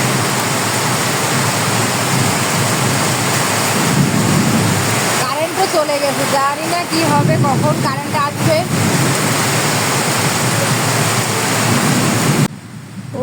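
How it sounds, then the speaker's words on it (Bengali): Torrential monsoon-style downpour, hours-long, with a steady, dense, loud roar of rain close by, while someone talks over it for much of the time; the wash cuts off abruptly near the end. "এখন তার থেকে আরো অনেক বেশি মুষলধারে বৃষ্টি হচ্ছে।"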